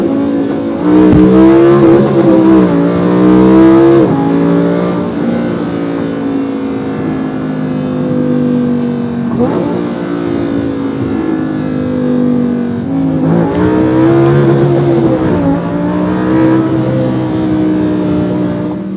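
A 2017 Lamborghini Huracan LP580 revs hard in manual mode, its engine climbing to redline and dropping back through upshifts in repeated surges. The sound is loud, close and sustained, with a raspy, distorted exhaust tone.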